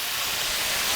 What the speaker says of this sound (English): You definitely want to hear that nice little sizzle.